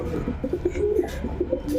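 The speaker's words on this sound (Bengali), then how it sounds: "অনেক সুন্দর কবুতর ইউনিক একটা কবুতর" Pigeons coo softly in low, murmuring bursts, several calls overlapping close by against a faint background hum.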